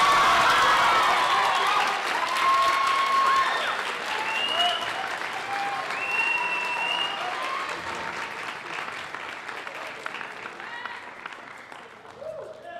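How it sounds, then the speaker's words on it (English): Audience at a high school band spring concert applauds warmly, with scattered cheers and whistles in the hall, loud at first and gradually tapering off. "Let's give a huge round of applause to Glenn Nolan"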